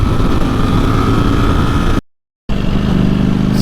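A new motorcycle's engine drones steadily and loudly while being ridden, a close, even mid-pitched hum that cuts out briefly before resuming.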